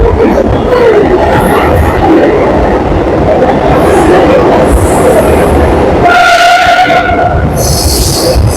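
A suburban elevated train in Chennai rumbles loudly and continuously past a station, with steady wheel and track noise, a squealing or horn-like tone near the end, and a voice faintly audible underneath.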